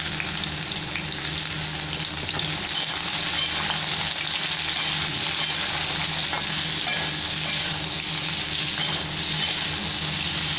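Pointed gourd (potol) pieces fry in oil seasoned with salt and turmeric, giving a steady, dense sizzle and crackle that runs evenly throughout with no voices, close and moderately loud.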